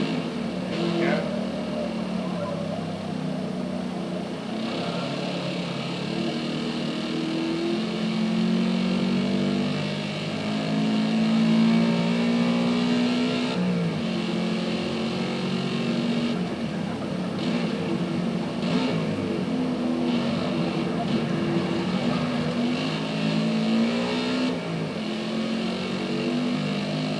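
A racing car engine in Forza Motorsport revs and drones continuously, rising and falling through gear changes, with someone talking over it throughout.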